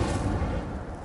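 Fire spell cast in a Harry Potter video game, a brief, loud burst with a low, rumbling crackle that fades over about a second.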